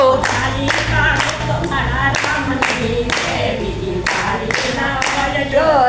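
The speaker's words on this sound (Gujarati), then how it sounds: "તાળી પાડો તો મારા રામની રે" Hands clap in loud, regular beats, keeping time with a devotional Ram bhajan sung at a temple. The claps are steady and close over the sung melody.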